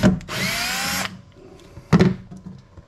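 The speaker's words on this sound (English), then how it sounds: "So take these screws out." A power drill spins screws out of the throttle box cover on an ICON golf cart's accelerator pedal, giving one loud, close whirring burst of about a second, then a pause and a short clunk.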